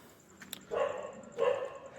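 Two dogs behind a gate bark outdoors, giving two loud, separate barks about half a second apart, close by and fairly clear over quiet surroundings.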